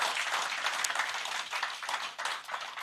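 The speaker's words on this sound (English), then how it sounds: "he deserves a rousing round of applause" An audience at a presentation claps throughout, a dense patter of many hands, moderately distant and steady, with no speech over it.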